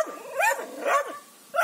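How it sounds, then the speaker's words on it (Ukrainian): A dog barks close by in three sharp yapping bursts with short gaps between them, alone with no talking over it, on a country farmstead. "Подивись на пса."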